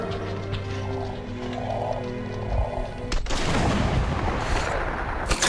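Gunfire from soldiers in the video game Metro Last Light, a steady rumble of shooting that erupts into a loud, dense barrage of shots partway through, with no talk over it.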